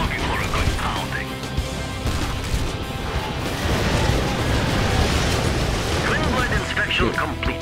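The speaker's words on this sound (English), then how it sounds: "Let's get the orbital dump. Dump and destroy." An orbital dump strike detonates in Red Alert 3, with dense, continuous crashing explosions and rumbling that last throughout under game effects and talk.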